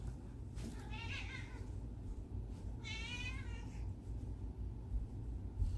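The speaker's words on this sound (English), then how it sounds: "my cat's misbehaving." A house cat meows twice, two drawn-out rising cries about two seconds apart, heard close over a steady low background hum during an indoor live stream.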